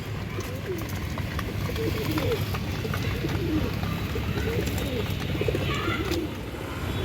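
Several pigeons eating a surki grain mix coo in low, rolling murmurs that overlap continuously, close and moderately loud, with a voice faintly present in the background.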